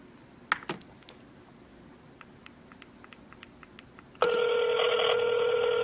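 A phone call placed on speakerphone: faint dial clicks and taps, then a loud, steady ringback tone starts near the end and holds without a break. No one speaks.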